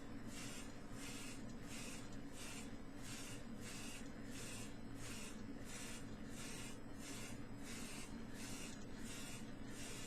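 A paint spray gun hisses continuously in a steady, rhythmic series of short sweeping bursts while spraying a base, close and fairly quiet, with no talking.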